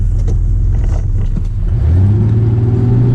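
A 1987 Chevrolet S10 pickup engine revs loudly up close, roaring and rising in pitch partway through as a burnout is attempted, with no talking.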